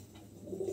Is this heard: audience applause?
no